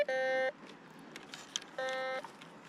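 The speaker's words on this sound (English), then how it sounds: "It's already beeping." A metal detector gives two steady electronic tones at a collapsed gold mine, each lasting about half a second, separated by a pause over faint background noise.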